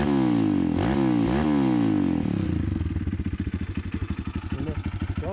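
A 150cc mini MX motorcycle, a rebuilt wreck, kick-started and running: a loud engine note with a few throttle blips that settle into a steady, pulsing idle, close by and without talk.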